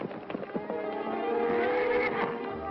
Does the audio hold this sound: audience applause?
no